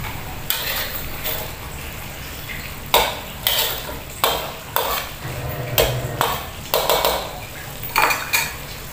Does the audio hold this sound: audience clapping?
no